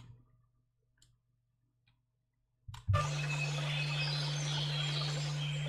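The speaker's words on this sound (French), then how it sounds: "On peut mettre des sons d'oiseaux." After a few faint ticks, a steady layer of chirping birdsong from an audio plugin switches on abruptly and continues evenly over a low constant hum.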